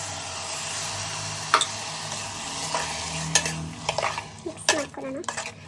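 A spoon scrapes and clinks against a pan while masala, thinned with a little water, is stirred for a tender radish sambar, with soft sizzling underneath and sharp metallic knocks toward the end.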